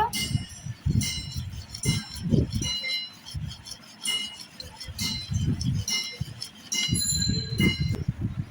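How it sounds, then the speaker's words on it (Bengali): A utensil scrapes and clinks irregularly against a bowl while cake batter made with Choco Fun biscuits and baking powder is mixed, with light knocks and rubbing between the clinks. "এখন আমি এটা ভালোভাবে মিশিয়ে নিব।"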